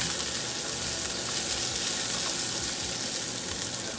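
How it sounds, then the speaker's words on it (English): Shrimp searing in olive oil with garlic and fresh green onions, a steady close sizzle and crackle of frying that holds evenly throughout with no voices. "once these have actually gotten a good sear to them from the olive oil, and it's in there with the garlic and the fresh green onions"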